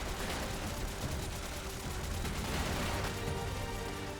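Dense gunfire from a skirmish in Trails Through Daybreak II, a steady, loud barrage of overlapping shots filling the whole stretch without any talk.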